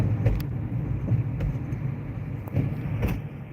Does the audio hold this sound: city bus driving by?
yes